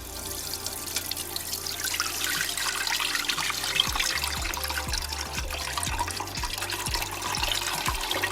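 Cold-brewed yerba mate, steeped for 24 hours, poured through a strainer into a pot: a steady close splash and trickle of liquid with small dribbles, no talking.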